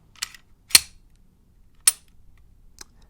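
Glock handgun shots fired in a sequence of four sharp, isolated cracks spaced unevenly across a few seconds, the second loudest and fullest, the last faint and thin, with near silence between them.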